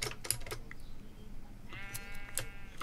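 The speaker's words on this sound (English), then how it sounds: "Oh, there's another sheep right there." A faint, wavering Minecraft sheep bleat rises midway over soft clicking and tapping, heard once and at low volume.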